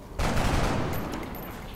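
A single gunshot from the X-COM: Enemy Within video game bursts out loudly, followed by a lingering, noisy rumble that slowly fades.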